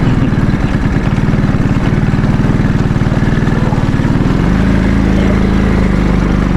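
A motorcycle engine runs steadily on a muddy road, a close, even low drone with a slight shift in pitch partway through, heard alone without talk.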